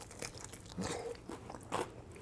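Crunchy Southern buttermilk fried chicken being bitten and chewed close up, a few crisp crackling bites with soft chewing in between and no talking.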